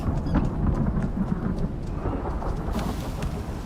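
A thunderstorm in the survival video game Icarus, with a heavy rumble of thunder rolling over steady rain, loud and close, and no voices.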